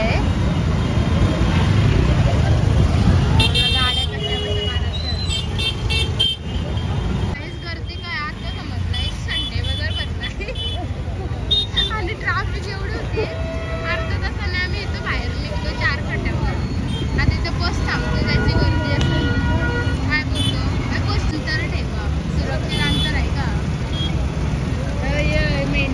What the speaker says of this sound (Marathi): ट्रॅफिक बघा किती आहे